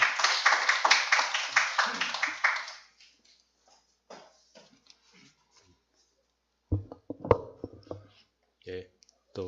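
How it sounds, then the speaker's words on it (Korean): A church congregation claps in welcome, a quick run of close, crisp claps that fades out after a couple of seconds. Quiet room sounds and a few louder knocks and taps follow. "이 시간 재원호 교수님 메시지 나눠주실 때 오시는데 우리 박수로 환영하겠습니다."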